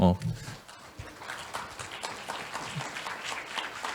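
A forum audience applauds a professor after a talk, moderate clapping that follows a brief spoken phrase and continues evenly at a middling distance.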